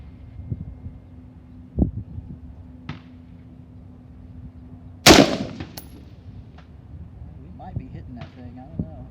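Rifle shots at an outdoor open gun range, with a few distinct cracks, one much louder and closer than the others, over light wind and someone talking.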